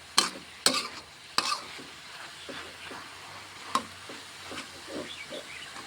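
Minced pork for Thai khua kling is stir-fried in a pan: a spatula clanks sharply a few times over a steady sizzle, with softer scraping strokes in between and no voices.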